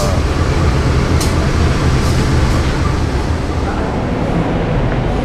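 The Majapahit train rolls into Pasar Senen station in Central Jakarta on track 6, a loud, close, continuous rumble with faint metallic squeaks over the din.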